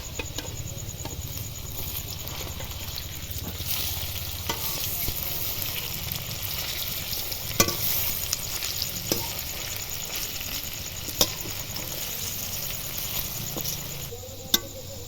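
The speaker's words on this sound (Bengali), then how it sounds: "আবার বাকিগুলো দিয়ে ভেজে নেব" Onion pakoras deep-fry in hot white oil with a continuous close sizzle and patter, broken by occasional sharp clicks and taps as they are turned and stirred, with no talking throughout.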